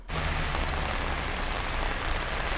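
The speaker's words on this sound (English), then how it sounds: "There's a lot of rain out here, and I want to show you all this rain." Heavy rain falling during a morning commute, a dense steady hiss of drops hitting surfaces, constant and fairly close with no voices over it.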